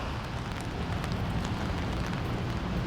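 Steady rain falls outdoors in Echo Park, Los Angeles, a soft, dense hiss with faint scattered drips and no voices over a few seconds.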